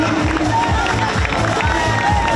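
Applause from the audience at a Miss Novi beauty pageant regional final in Novi Ligure, a dense continuous wash of clapping with a rhythmic thumping beat of music beneath it.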